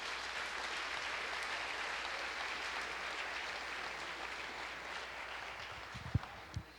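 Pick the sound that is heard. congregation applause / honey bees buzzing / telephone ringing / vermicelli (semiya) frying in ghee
congregation applause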